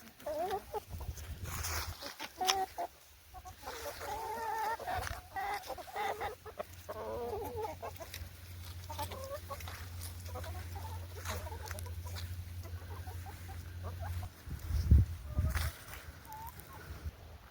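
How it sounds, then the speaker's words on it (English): Chickens on a chicken farm, clucking softly in their pen, faint, close murmuring calls under steady low background rumble and handling noises. "I can hear them clicking back there, hear their little chicken song."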